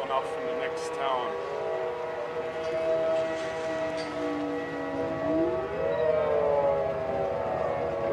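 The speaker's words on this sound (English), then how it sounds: "We heard a siren that's going off from the next town." A civil defense siren wails from the next town over during a violent tornado in La Crosse, Kansas, a distant, sustained tone that slowly rises and falls against steady wind and background rumble.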